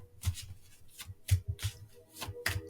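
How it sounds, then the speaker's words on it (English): Tarot cards being shuffled by hand, a series of soft papery riffles and taps in an uneven rhythm, close and alone. "I need to shuffle again. Those cards feel weird."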